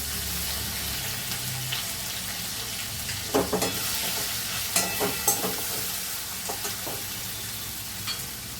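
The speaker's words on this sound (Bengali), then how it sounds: "তেজপাতা ফোড়নে দিলাম" Bay leaf and spices sizzle in hot oil for tempering, a steady close crackle with a few sharper pops and stirring scrapes, no talking.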